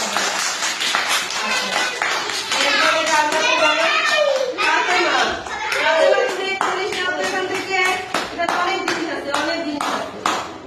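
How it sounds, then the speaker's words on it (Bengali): Children in a school classroom clap their hands together in a sustained burst of round applause, dense and close, lasting throughout, with a few voices mixed underneath. "সবাই হাততালি দাও।"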